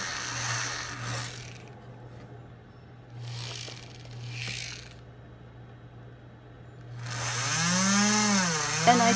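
A high-pitched dental-style burr drill whines in short bursts with pauses between, drilling a hole to flush-set a faceted stone, rising to a louder sustained whir near the end, with a steady low hum underneath.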